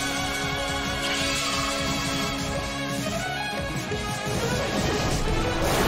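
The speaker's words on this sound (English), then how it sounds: "A smashing blow that dealt some massive damage." A smashing attack lands in the Pokémon Battle Revolution video game, a dense crash sitting inside loud, continuous game music for several seconds.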